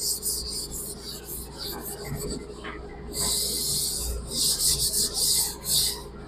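Eraser rubbing out part of a pencil drawing on paper during a coordinate geometry lesson, a close dry scrubbing rasp in repeated strokes with no talk over it.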